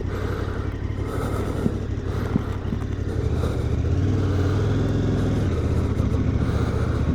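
A new KTM 1290 Super Adventure S motorcycle being ridden on fresh tires, its engine a loud, continuous drone that rises in pitch partway through, with wind and road rumble and no talking.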